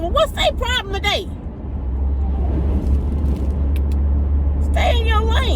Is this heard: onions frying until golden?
no